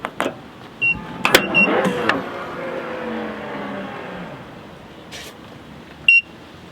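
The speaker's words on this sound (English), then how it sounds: "Hansshow open sound." A Hansshow aftermarket power tailgate opens with a low mechanical motor whir running steadily for several seconds, bracketed by a few short clicks and beeps near the start and end.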